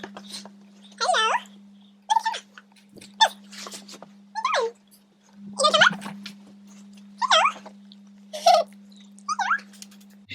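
Bella, a two-year-old pet dog, whimpering and yipping in a series of short high-pitched whines and yelps, close by, with a steady low electrical hum underneath.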